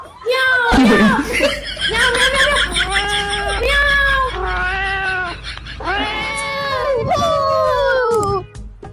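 A cat meows repeatedly in long, drawn-out caterwauling cries, loud and close, one after another with brief gaps between them.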